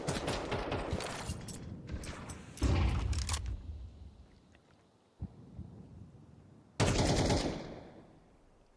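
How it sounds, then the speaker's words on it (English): Rifle gunfire in a Counter-Strike esports match between NRG and Getting Info rattles out in loud, close bursts, with quieter gaps between volleys. "Now punctuated by the percussion of the rifles."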